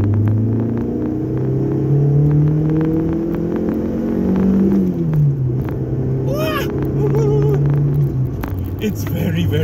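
A 1996 Proton Wira C99 1.8 EXi limited edition rumbles from inside as it drives, its engine droning steadily with rising and falling pitch as it changes speed, under someone talking throughout.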